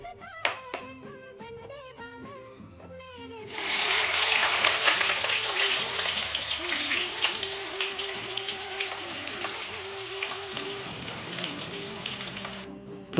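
Chopped onions go into a hot pan with whole garam masala spices and fry with a loud, steady sizzle that rises suddenly and holds, after some soft clinks and stirring. A voice speaks faintly underneath.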